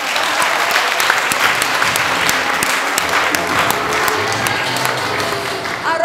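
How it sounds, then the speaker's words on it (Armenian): An audience at a school event applauds the school's teachers, dense sustained clapping from many hands filling the room, loud and continuous from start to finish. "Ծափահարենք նրանց համար"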